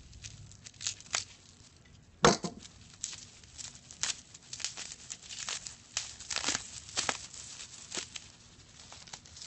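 Sealed packaging of a Numato Opsis board being cut open during unboxing, giving close, quiet crinkling and rustling with scattered tearing snips and one sharper crackle, all of it without speech.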